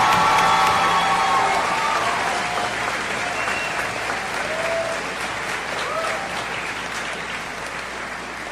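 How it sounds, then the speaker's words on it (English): A crowd at a Telstar Class of 2025 high school graduation applauds the graduates, a loud dense wash of clapping with some cheering that holds steady throughout and slowly softens. "Let's have one more round of applause for our graduates"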